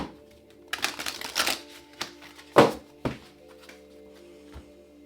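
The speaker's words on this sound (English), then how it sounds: "last shuffle." Tarot cards being shuffled by hand, a series of irregular soft riffles, taps and thumps of the deck at close range, with no speech.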